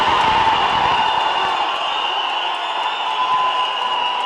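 A large crowd of fans cheers and roars continuously at an event for actor Vijay, a dense, steady wash of shouting and applause with no pauses.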